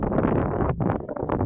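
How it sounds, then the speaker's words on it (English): Strong gusts on a blowy day beside a canal buffet the microphone in a rough, rumbling roar that dips briefly once or twice before surging again. "Quite blowy, you probably can hear it. But it's quite a blowy day actually."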